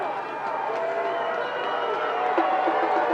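Crowd in a high school football stadium during a state championship game, a steady roar of cheering and noise with a commentator talking over it throughout.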